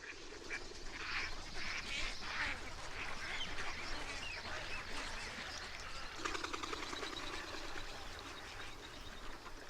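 Water birds in the wetlands of Papua's Sepik region call over one another in a busy, overlapping chorus of quacks and honks, some nearer and some farther off, under a constant wash of ambient noise.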